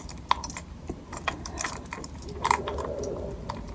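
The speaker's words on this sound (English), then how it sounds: "And then I have 2 apartment keys." A set of two apartment keys jangles and clinks close to the microphone in soft, irregular bursts in a quiet room.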